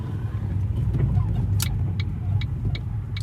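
A Ford Focus engine idles with a steady low intake rumble after a motor mount replacement. The sound is close and continuous, with a few faint clicks on top.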